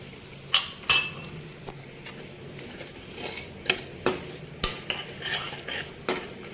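Tamarind paste with salt and jaggery being stirred in a pan, a spoon scraping and clinking against the metal in repeated strokes over a faint sizzle, with no talking.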